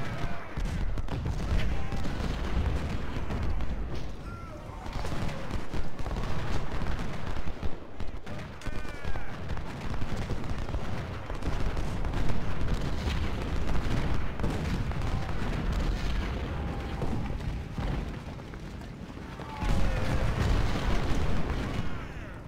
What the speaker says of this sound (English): And now with my 24-pounder shooting him